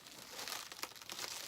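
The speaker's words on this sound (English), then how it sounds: "Get a piece of tape" A strip of packing tape is pulled and torn off to seal a shipping box, giving a short, close crinkling rip heard alone.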